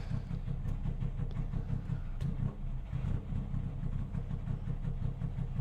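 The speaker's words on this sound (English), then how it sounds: "Listen to that little engine." A racing car engine in the video game Automobilista 2 drones steadily at idle-like pitch, a low throbbing rumble with a faint pulsing rhythm and no voices over it.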